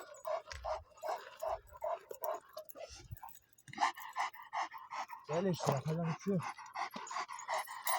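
A dog pants and whimpers in short bursts close by after a dog fight, mixed with someone talking intermittently.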